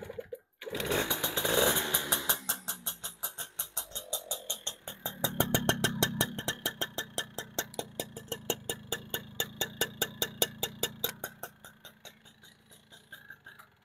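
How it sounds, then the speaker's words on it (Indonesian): An old motorcycle engine starts and runs at close range, first revving roughly, then settling into a steady, rapid putt-putt idle with distinct regular firing pulses that continue for several seconds. "jadi coba kita cek mesinnya ya"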